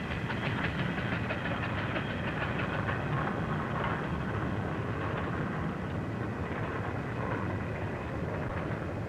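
Restored small train circling the grounds, a steady rolling rumble with faint rhythmic clacking of wheels on track, continuous and fairly close without any speech.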